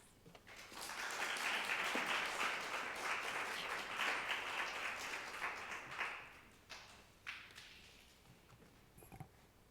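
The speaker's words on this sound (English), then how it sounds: "you all have to applaud her" Audience packed into a room at a museum press preview breaks into sustained applause that swells early, then thins into scattered claps before fading, heard from a distance.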